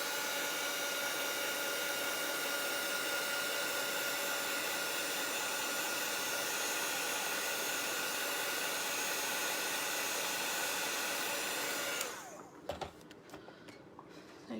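A loud, steady heat gun roars continuously for about twelve seconds while drying a craft tray, then cuts off, leaving faint clicks and handling noises.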